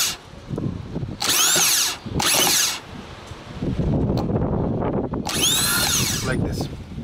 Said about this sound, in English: If I will connect it over here on this terminal, so the self-starter will move. You will be able to listen the sound